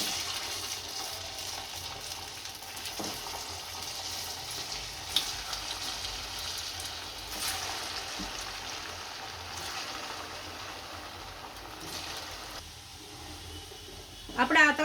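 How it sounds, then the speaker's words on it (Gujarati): Shaped poha snacks deep-fry in a pan of hot oil, giving a steady soft sizzle and bubbling throughout, with occasional stirring clinks and a few louder bursts near the end. "આપણે આ તળાઈ ગયા છે અને હવે કાઢી લેશું।"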